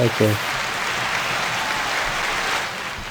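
Audience applause for a guest expert on a comedy show, a steady broad wash of clapping that holds for a few seconds after a brief spoken word at the start.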